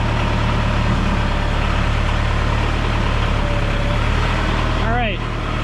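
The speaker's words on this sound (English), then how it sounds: "Kind of hear, get that nice sounding diesel engine" A Korean TYM tractor's diesel engine idles steadily and loudly up close, a constant low rumble throughout with a brief squeal near the end.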